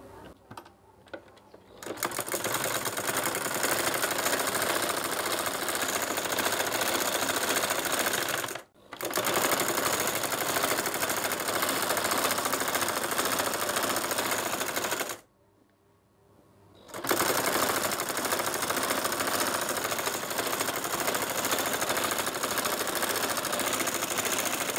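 A sewing machine stitches together palazzo trouser pieces for a size 38 pair, the front cut in four panels; a loud, steady whirring run breaks off twice for brief pauses before starting again.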